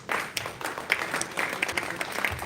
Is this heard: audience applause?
yes